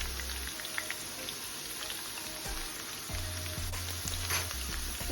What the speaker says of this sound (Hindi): तो आलू लगभग मेरे फ्राई हो चुके हैं।